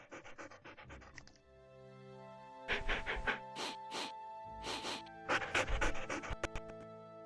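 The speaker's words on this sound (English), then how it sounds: "Doggies! I found dogs!" Dogs panting in the Nancy Drew: Ghost Dogs of Moon Lake video game, rapid rhythmic breaths repeating in close bursts over a steady game music drone, with no talking.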